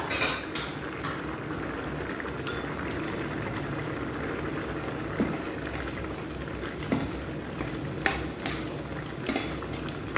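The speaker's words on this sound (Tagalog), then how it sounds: "Yan, kumukulo-kulo na guys." A pot of mung beans with chicken bubbles and simmers steadily on the stove, with occasional clinks of a utensil against the pot.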